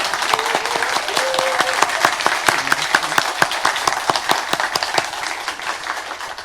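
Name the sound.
congregation applause and cheering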